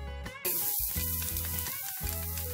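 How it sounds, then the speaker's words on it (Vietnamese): Cooking oil sizzling in a hot pan while preparing steamed cabbage rolls with shrimp and meat, a loud, steady hiss and crackle heard up close, broken by a few clattering stirs of a utensil. "Chảo nóng, mình cho một ít dầu ăn vào trong chảo."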